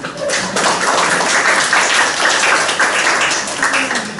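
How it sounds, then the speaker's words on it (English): Audience applause for Professor Ho at a book introduction during an academic conference's closing ceremony: steady, dense clapping from a room of people, fairly loud and sustained throughout with no talk over it. "Let's give him applause"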